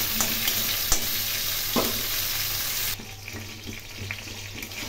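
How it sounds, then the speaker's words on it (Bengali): A fish head fries in oil for a muri ghonto dish: a bright, constant sizzle with a few stirring knocks, dropping abruptly to a quieter bubbling hiss after about three seconds, with no voices. "ভালো লাল লাল করে ভেজে নেব"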